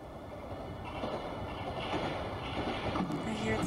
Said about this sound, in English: I hear the sound of a train.